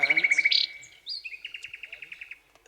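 Small birds chirp nearby in quick trilling bursts: a fast run of bright tweets, a short pause, then another rhythmic series of repeated chirps, clear and fairly close.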